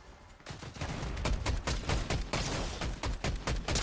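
Gunfire from weapons in Fortnite crackles in dense, rapid bursts of sharp shots that run almost the whole way through, loud and close, with only a short quiet lead-in.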